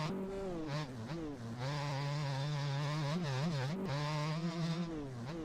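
Motorcycle engine idling and blipping at low revs in the video game MX Bikes, a steady buzzing drone with small rises and dips in pitch that carries on without a break throughout.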